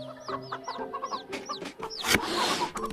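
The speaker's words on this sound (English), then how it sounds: "Get rid of these chickens. I don't like them." Chickens in the VRChat game on a chicken farm cluck and squawk in short repeated calls, fairly close and moderately loud, with a sharp burst of noise near the end.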